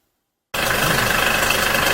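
A Hyundai Porter 2 one-ton truck engine settles into a steady idle around 750 rpm, starting abruptly from silence with a close, even, throbbing drone.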